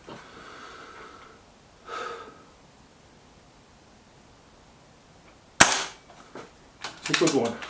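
A single sharp crack from a Kral Puncher K air rifle rings out close and loud, followed by faint breathing and small handling noises.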